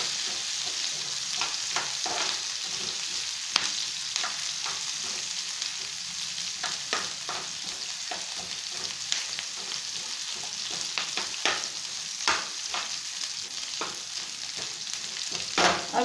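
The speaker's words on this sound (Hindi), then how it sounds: "अब मैं इसको थोड़ी देर हिला देती हूँ।" A tempering of spices is stirred in hot ghee in a pan while cooking khichdi, giving a steady close sizzle and frying crackle with repeated scraping stir strokes, and no talk.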